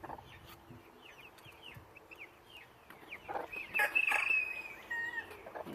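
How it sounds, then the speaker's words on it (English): A gentle cuckoo Maran hen with her chicks clucks softly nearby, while the chicks cheep in rapid high peeps throughout, growing busier and louder toward the end. "She's a very gentle hen."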